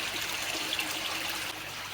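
Water trickles and splashes steadily during a large aquarium water change, a close, bright continuous pour that eases slightly near the end, with no talking.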